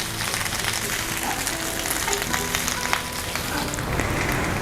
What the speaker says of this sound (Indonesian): kue nagasari dibungkus daun pisang terus dipanggang